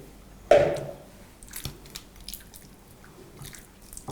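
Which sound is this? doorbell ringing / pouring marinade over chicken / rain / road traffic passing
pouring marinade over chicken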